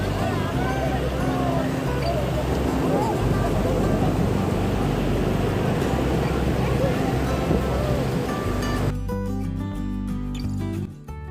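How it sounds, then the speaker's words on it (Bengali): Sea waves break on Gopalpur beach in a loud, continuous roar of surf close by, with voices talking over it and music entering near the end. "দারুণ লাগছে ঢেউটা একটু জলটা ঠান্ডা কিন্তু ঢেউগুলো খুব"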